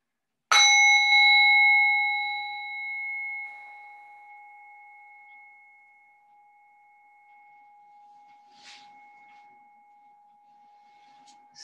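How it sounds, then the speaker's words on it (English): A single bell struck once to begin a restorative yoga posture, its clear ringing tone sustaining and slowly fading over many seconds in a quiet room, with a faint brief sound near the end. "I'll ring the bell to start this, us into this posture"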